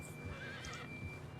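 Horse in Red Dead Redemption 2 heard close and alone, with clip-clopping hooves and a clear neigh or whinny over a steady game background hum.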